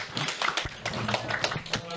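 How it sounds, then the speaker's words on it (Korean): A warm round of applause from a seminar audience for a round-table presenter and six panelists, a dense patter of clapping mixed with voices talking over it. "6분의 토론자 분께 따뜻한 박수 부탁드리겠습니다"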